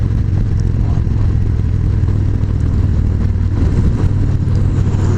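A Victory Magnum X1 Stealth Edition motorcycle engine roars loudly and steadily close by through the first gears, with a deep rumbling drone and rattling clatter throughout, no clear pauses between gears.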